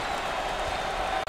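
A basketball arena crowd cheers at a Richmond versus Florida college game, a loud, steady wash of massed voices and clapping that cuts off abruptly at the end.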